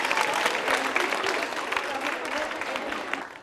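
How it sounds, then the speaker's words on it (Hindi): Lively clapping from a college audience for a women's quiz show contestant, brisk and continuous, tapering slightly at the end, with a crowd murmur underneath. "गुलफशा चौधरी के लिए जोरदार तालियां बजाइए"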